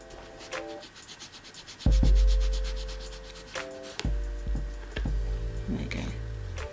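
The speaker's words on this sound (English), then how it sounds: "you can probably hear me scraping the gel" Softened gel polish being scraped off a fingernail with light strokes, giving soft rubbing scrapes close up, with faint tonal hums in the background.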